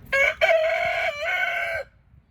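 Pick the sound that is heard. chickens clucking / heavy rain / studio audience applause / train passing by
chickens clucking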